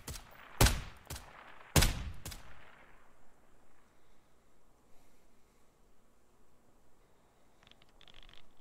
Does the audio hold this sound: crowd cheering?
no